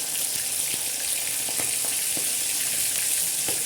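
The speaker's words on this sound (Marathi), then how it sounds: "मस्त तेल तापलेलं आहे तर ही एक एक मच्छी आपण त्या तेलामध्ये असे सोडणार आहोत" Bangda mackerel fry in hot oil, a loud, close, continuous hissing sizzle with scattered pops and spits, steady throughout with no voices.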